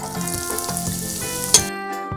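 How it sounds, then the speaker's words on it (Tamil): Steady, loud sizzling of two onions frying in hot oil for fried rice, with a crackling hiss throughout and a brief sharp spatter near the end. "அதை நல்லா வெங்காயம் நல்லா வதங்கி விடணும்."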